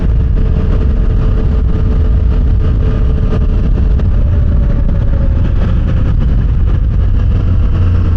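Triumph Tiger 900 Rally Pro motorcycle, a 2024 model, riding along back roads, with a steady, loud engine drone and rushing wind noise that run without a break throughout.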